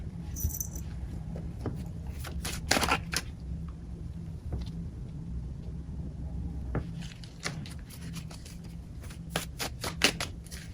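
Tarot cards are shuffled by hand, with bursts of crisp riffling and flicking near the start and again toward the end, separated by quieter handling. The sound is close, and no one speaks.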